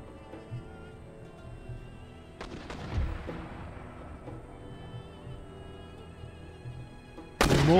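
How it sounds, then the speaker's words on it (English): Mortars and muskets fire in a battle in the strategy game Empire Total War, a sharp distant blast at about two and a half seconds ringing out into a decaying rumble over low ambient battlefield noise. "The mortars are engaging our main line."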